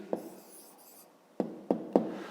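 Quiet scratching of a pen writing down the answer to a fifth-grade math exercise, with a few sharp taps against the page standing out near the end.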